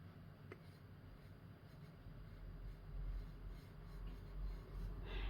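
Colored pencils scratch faintly across dry paper, a soft continuous scraping with shifting strokes that grows a little louder toward the end, with no voices.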